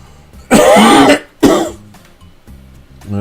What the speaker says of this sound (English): There we go, coughing again.